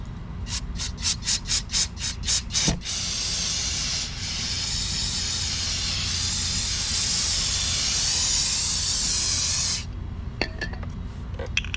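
Brake cleaner sprayed onto the engine of a 2003 Chevy Cavalier: a string of short rapid bursts, then a loud continuous close-up hiss lasting about seven seconds before cutting off, with faint clicks after.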